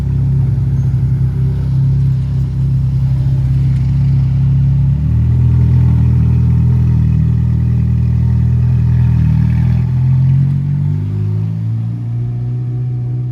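A Ferrari Pista sports car rumbles and revs at the Zoute Grand Prix 2025 during a Ferrari rally in town, its loud, close engine holding a deep steady drone with the pitch rising and falling throughout.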